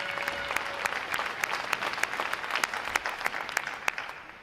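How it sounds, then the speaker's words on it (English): At a U.S. Navy boot camp graduation at RTC Great Lakes, a crowd gives moderately loud applause for unit and individual award recipients, steady clapping with individual sharp claps standing out and a brief tone early on. "how about another round of applause for our unit and individual award recipients?"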